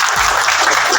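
Audience clapping loudly for a guest at a gathering of health workers, a brief dense burst of applause heard close.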